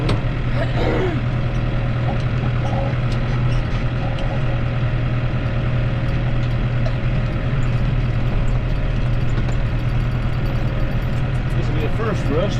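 A tractor engine idles while warming up, a dense, steady low rumble that goes on unbroken. It is loud and close, with no let-up across the whole stretch.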